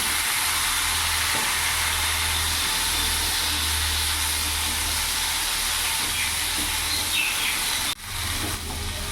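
Chopped ridge gourd cooks in a little oil with black cumin seeds, giving a steady, loud, close hiss of sizzling that runs throughout, broken by a brief knock near the end.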